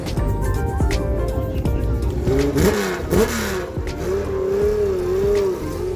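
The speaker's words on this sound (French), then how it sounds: "l'arrivée des voitures sur Deauville au coucher de soleil" Rally cars arriving at Deauville rev and accelerate close by, with a rising and falling whine and some tire noise over a busy crowd murmur.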